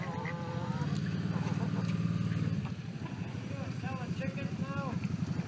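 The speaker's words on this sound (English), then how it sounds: "Out the ducks' pool, so now they're all taking their baths." Ducks quack in short nasal bursts while bathing in a pool, with a loud honking call early on and splashing in the background.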